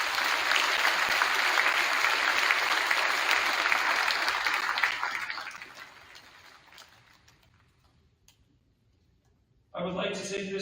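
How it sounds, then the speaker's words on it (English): Dense, steady applause from a graduation audience for Cambridge Public School District staff, sustained for several seconds before fading out into near silence, then a voice begins speaking. "Please help me thank them by giving them a round of applause for their time, effort, and dedication to the Cambridge Public School District."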